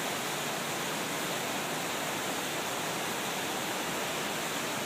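Cascading water pours from a lit fountain at a festival show, a dense, continuous rushing roar with no breaks, loud and close, with no voices over it.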